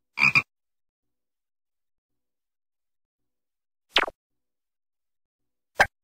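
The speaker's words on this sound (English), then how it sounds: "The frog. La rana." A frog croaks in short, separate, close bursts spaced well apart, with silence between them.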